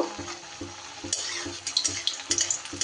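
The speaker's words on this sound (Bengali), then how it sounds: "এইভাবে একটু তেল দিয়ে এক পিঠ হয়ে গেলে আর এক পিঠ আমি উল্টিয়ে দিয়েছি" A flatbread of flour and potato fries in a little oil in a pan, a light crackling sizzle with regular soft thumps and scraping, close and moderate in volume.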